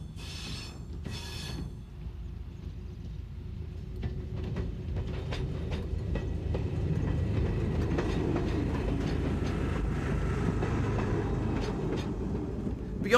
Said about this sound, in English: these two-car 7300 class electric multiple units, painted in the white and yellow livery adopted by the region of Languedoc-Roussillon